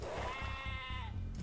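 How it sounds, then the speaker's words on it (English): A sheep in a video game lets out a single drawn-out bleat, clear and fairly close, lasting about a second over a low ambient game background. "Oh, there's a bunch of sheep."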